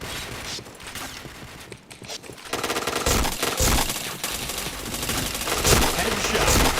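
Rapid bursts of automatic gunfire in the shooting game Point Blank, loud and dense, with a brief lull before heavier volleys and clanking weapon mechanics.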